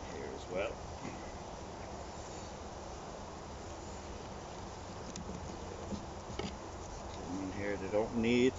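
A soft, continuous buzzing hum of honeybees in a compost bin fills the background, with someone talking briefly near the start and end.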